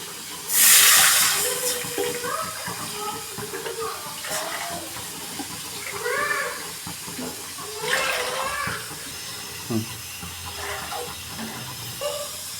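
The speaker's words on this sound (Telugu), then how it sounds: "నేను రెండు గ్లాసులు పోసిన బియ్యము మూడు గ్లాసుల వాటర్ పోయాలి" Water pours with a broad hiss at the start, then trickles and splashes intermittently into a cooking pot of rice, with a faint voice speaking underneath.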